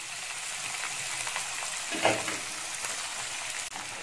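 Chopped onion and curry leaves fry in hot oil for semiya uppumavu, a steady crackling sizzle throughout with a brief louder burst midway as the ingredients are stirred.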